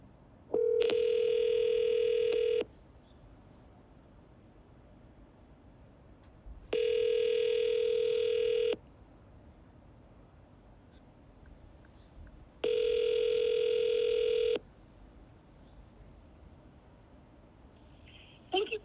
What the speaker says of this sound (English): I'm calling multiple people from this brokerage, and they're not picking up the phone